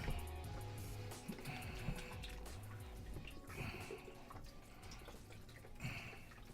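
Beef broth pouring into a Power Pressure Cooker XL with garlic and beef shanks, an uneven liquid splashing and dripping, close and quiet with small clinks.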